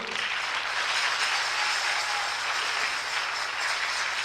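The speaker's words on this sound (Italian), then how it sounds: "Un applauso per il signor Salvatore Ippolito e Gary Pellitieri." Sustained applause from an audience at a folkloric group performance, an even, dense wash of many hands clapping throughout, steady in loudness with no talking.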